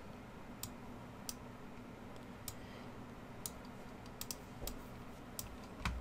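Computer keyboard arrow keys tapped to nudge an object in Tinkercad, a string of single faint clicks at uneven intervals over a quiet background hum.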